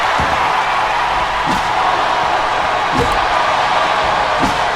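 Rowdy VRW wrestling crowd at a Winter Mayhem event roars steadily throughout, with whoops and a few sharp slam-like hits cutting through the dense, loud cheering.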